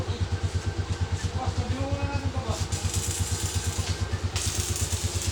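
A kolong-kolong motorcycle with sidecar runs on a test drive in Tarlac, its engine a steady, rapid low putter close by, with people talking over it.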